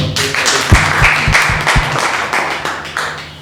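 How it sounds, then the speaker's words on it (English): Students in a classroom break into applause for a classmate: a dense, loud burst of many hands clapping that builds and then thins out over a few seconds. "Have a clap."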